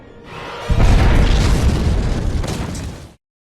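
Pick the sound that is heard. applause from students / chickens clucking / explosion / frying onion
explosion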